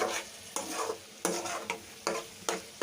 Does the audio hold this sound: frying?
yes